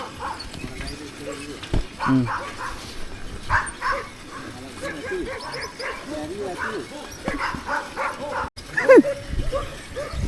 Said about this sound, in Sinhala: මෙහෙ මේ බල්ලෝ මෙච්චර මේ බුරන්නේ මේ අපි යන එනකොට